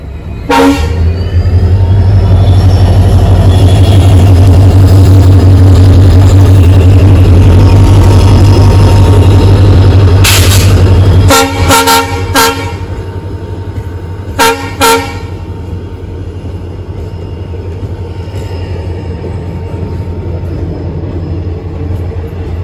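A train rolls past a railway crossing, a loud close rumble of wagons for about eleven seconds, then several sharp horn blasts in short bursts as the sound eases off.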